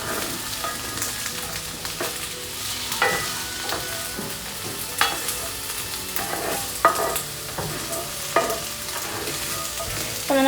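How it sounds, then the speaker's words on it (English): Fajitas sautéing in a pan, a continuous sizzle with frequent scraping and clattering strokes of a utensil as they are stirred around, close and fairly busy throughout; no talking. "go over to the fajitas over here and stir these around until they're nice and sauteed"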